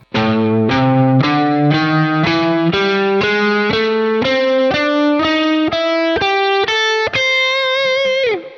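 Distorted electric guitar climbs a pentatonic box scale one picked note at a time, evenly paced, slipping in chromatic passing notes, ending with a bend.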